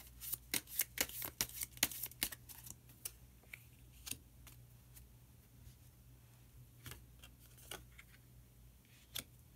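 Tarot cards being shuffled and drawn on a table, a quick flurry of soft snapping riffles at first, then sparse faint taps and slides as single cards are pulled, quiet and close with no talk.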